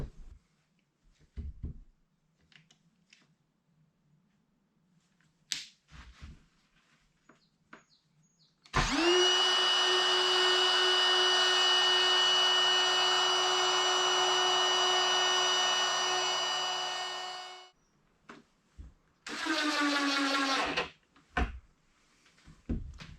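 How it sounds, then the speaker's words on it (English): A wood router cuts hinge recesses into a wooden box, whining loudly and steadily for about nine seconds after a few handling knocks, then briefly spinning up again near the end. "get the router out, and do a little cutaway for them."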